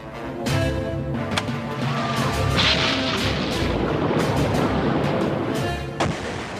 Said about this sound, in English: When the people heard the explosion and saw the fire offshore